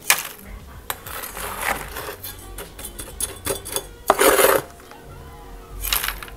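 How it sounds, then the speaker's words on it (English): Kellogg Cactus Palm soil mix is scooped and poured into a pot, a series of close, gritty scrapes and rustling pours with a few sharp knocks, uneven and bursty. "I'm going to put some soil."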